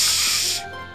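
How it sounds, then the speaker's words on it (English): Spray paint hisses in the video game Scribblenauts Unlimited, one loud, close, steady burst lasting just over half a second before cutting off. "how about some spray paint"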